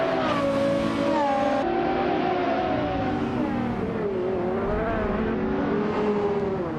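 A family sedan turned speedster races in a video game, its engine whining and revving steadily up and down through gear changes, a continuous loud drone with no talk.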